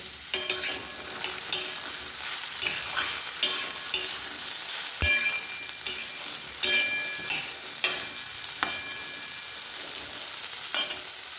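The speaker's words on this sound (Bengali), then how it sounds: "আজ আমাদের আলু ভেন্ডি ভাজা হচ্ছে" Potatoes and okra fry in a home kitchen pan, a steady hiss of sizzling oil broken by repeated scraping stir strokes from a spatula every second or so, close and alone without talk.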